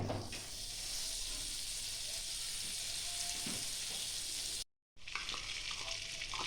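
Steady, close sizzling and hiss of butter melting in a hot wok, continuous throughout with a brief cut to silence near the end.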